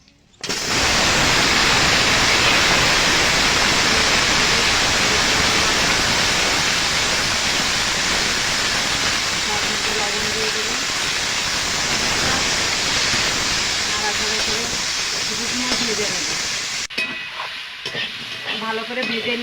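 Broccoli and potato pieces fry in hot oil in a kadai, giving a loud, steady broadband sizzle with stirring scrapes that runs almost the whole time, then drops away abruptly near the end.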